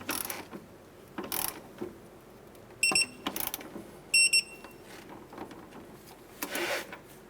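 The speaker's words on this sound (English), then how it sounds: "Let's torque our lower clevis nut here to 47 foot-pounds." Torque wrench tightening the lower clevis nut on a 2008-2012 Honda Accord strut during CV axle replacement, with ratcheting mechanical clicks and two sharp short metallic click bursts as the set torque is reached, amid quiet shop handling noise.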